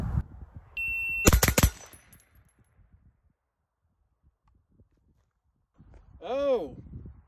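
Rifle gunshots on a range during an AR-type buffer test with a Geissele Super 42 H2 buffer, a tight burst of two or three loud sharp reports near the start, then quiet, with a voice speaking at the end.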